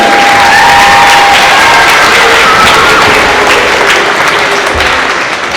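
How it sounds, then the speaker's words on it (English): A school concert audience applauds the middle school band with loud, continuous clapping and some cheering, the sound thinning slightly toward the end. "let's give our band another round of applause"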